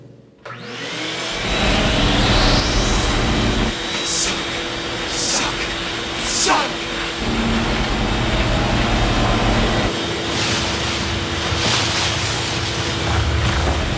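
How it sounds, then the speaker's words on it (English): Shop vac sucking debris out of a home air conditioner grill, a loud continuous motor roar with rattling bursts and pitch shifts as dirt is drawn through the hose, no speech. "So with a shop vac, we're gonna suck all the debris out of the grill."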